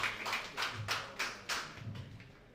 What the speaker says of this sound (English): Let's round of applause again